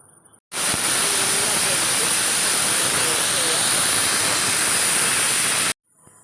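A pressure cooker cooking duck curry lets out one loud, steady hissing steam whistle. It lasts about five seconds, starting and cutting off abruptly, close and alone with no talk.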